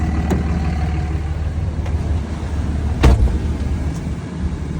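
A 2005 third-generation Dodge Ram 3500 dually flatbed with the 5.9 Cummins diesel drives along, a steady low engine and road rumble from inside the cab with a brief knock partway through and no talk.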